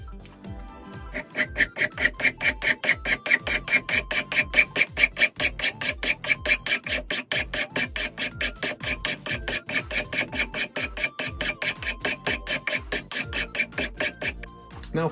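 A hand file rasps across wood while shaping a wooden toy, an even rhythmic run of quick back-and-forth strokes, close and steady, with no voices.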